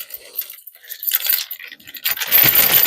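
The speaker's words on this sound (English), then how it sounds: "I'm going to put the lock and the pin back in the bag that they came in." A metal trailer hitch lock, pin and keys clink and jangle as they drop into a bag, with rustling and rattling that grows louder toward the end.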